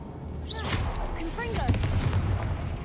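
A Confringo blasting spell goes off in the Hogwarts Legacy video game, a boomy burst with crackling debris, set among whooshing spell effects and a low rumble.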